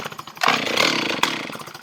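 Old metal-tag Stihl 044 chainsaw is pulled to start, with rough, sputtering bursts of engine noise that rise and then fall back and fail to settle into a steady idle. It sounds close and fairly loud.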